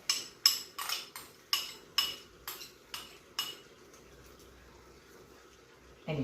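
Metal utensils clink sharply against dishes about eight times in a steady rhythm while a fried egg is being prepared, close and clear, then fall quiet over a low background hum.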